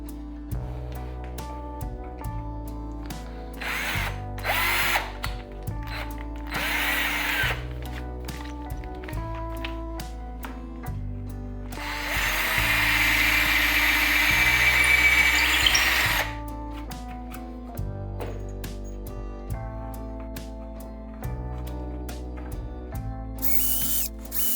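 A power drill enlarges screw holes in the wooden neck of a guitar kit, running in several short whirring bursts with one longer sustained run in the middle, separated by quieter pauses with background music.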